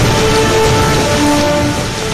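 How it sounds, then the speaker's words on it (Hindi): Heavy rain in Mount Abu, Rajasthan floods a road like a river, making a loud, constant roar of rushing water with faint tonal hums running through it. "राजस्थान की मशहूर पर्यटन नगरी माउंट आबू में इतनी जोरदार बारिश हो रही है कि सड़क नदी में तब्दील हो चुकी है।"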